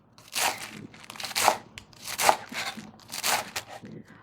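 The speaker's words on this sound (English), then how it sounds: "All right, our lettuce has dried off a bit. Just gonna chop this thinly." Dried lettuce sliced thinly with a knife on a cutting board during weeknight chicken and rice cooking, four or five crisp crunchy cuts spaced about a second apart, close and clear with no talking.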